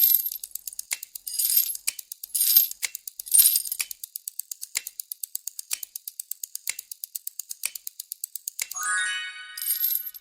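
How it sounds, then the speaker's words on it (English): Metal chains rattle in short, jangling bursts between a steady run of sharp, rapid metallic clicks, ending in a brighter rattling flourish; close and clear with no talking. "That was the sound of chains rattling."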